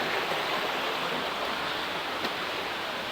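A waterfall at Phlio Waterfall National Park in Chanthaburi, Thailand, rushes in a steady, dense roar of falling water, constant and unbroken throughout.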